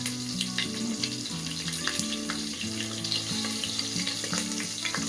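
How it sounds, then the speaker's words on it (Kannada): Chopped onion frying in a pan with fennel seeds, a steady close sizzle with scattered crackles and soft stirring clatter throughout. "ಈರುಳ್ಳಿನ ಚೆನ್ನಾಗಿ ಫ್ರೈ ಮಾಡಬೇಕು, ಬ್ರೌನ್ ಬರೋವರೆಗೂ."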